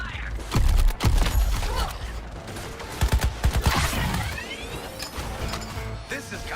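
Rapid bursts of support gunfire and clattering weapon mechanisms in the Suicide Squad video game, loud and close, mixed with metallic effects and brief voices.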